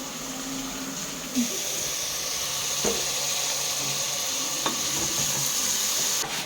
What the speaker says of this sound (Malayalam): ഇതിലേക്ക് ഇപ്പം ബീഫ് ഇടുകയാണ് കേട്ടോ